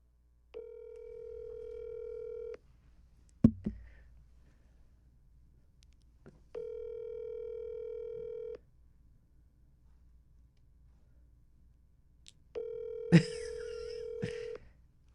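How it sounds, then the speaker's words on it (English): An outgoing telephone call ringing out: three long, steady ringback tones about two seconds each, separated by quiet pauses, with a brief click and clatter between them. "Let's call Grant."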